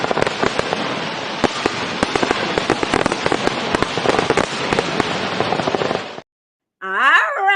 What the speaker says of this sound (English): let's get these fireworks going.